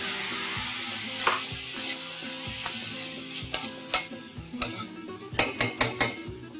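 Chopped tomatoes and capsicum sizzle softly in a pan, with a string of sharp metallic clinks and scrapes from a spoon against the pan, growing quicker toward the end.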